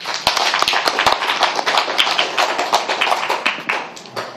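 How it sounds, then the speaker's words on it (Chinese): An audience at a stage show for a music group claps loudly and close, a dense patter of many hands with sharp individual claps that keeps going before tapering off at the end. "给他掌声。"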